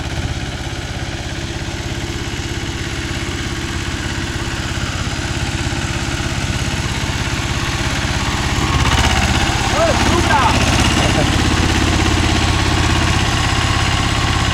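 A Mahindra 265 DI tractor runs a 36-blade rotavator, its engine droning steadily and loudly throughout, with the load rising slightly past the midpoint.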